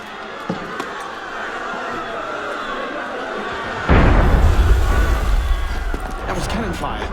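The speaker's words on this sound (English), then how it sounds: "That was cannon fire." A heavy cannon blast booms in the Assassin's Creed Unity video game, a sudden low rumble that swells and lingers over ambient game noise, with voices talking before it.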